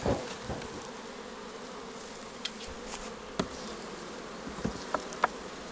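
Honeybees hum steadily in a dense, low buzz around a hive, with a few individual bees zipping past close by now and then.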